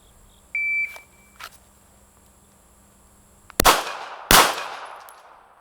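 A shot timer gives a brief electronic beep, then two loud handgun shots ring out a little over half a second apart during a US Navy basic handgun qualification on a reduced-size target, each crack trailing off in echo.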